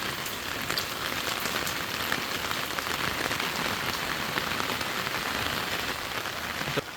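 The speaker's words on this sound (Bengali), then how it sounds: "দেখেন কি প্রচুর পরিমাণ বৃষ্টি নামছে।" Heavy rain pouring down in a village, a dense steady patter and hiss of drops hitting surfaces, constant and close, with no speech.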